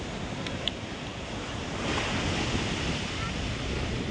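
Sea surf rolls in steadily at Digha beach, a broad continuous wash of breaking waves close by, with wind buffeting the microphone.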